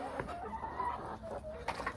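Several farmyard chickens cluck over a steady outdoor background, with short, repeated, fairly close calls overlapping one another throughout.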